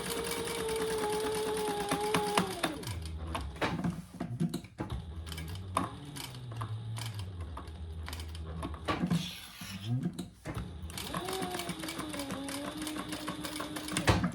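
A sewing machine back stitches with brown thread on a shoulder bag, sounding as close, rapid mechanical chattering runs with a shifting motor whine and brief pauses.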